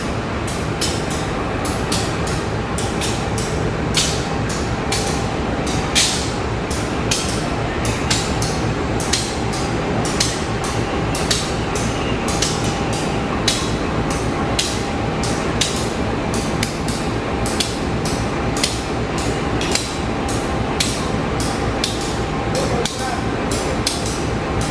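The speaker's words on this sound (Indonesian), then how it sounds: "di sini ada proses penyambungan lokomotif kereta api Dharma Wangsa" A locomotive is coupled to the Dharmawangsa passenger train at a station platform. A constant heavy diesel rumble carries sharp metallic clanks and clinks at irregular intervals, with people talking in the background.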